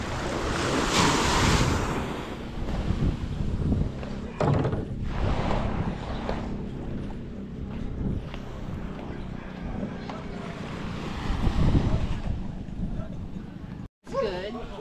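Surf breaking on a beach rolls on as a steady broadband wash, with wind buffeting the microphone and faint voices in the background.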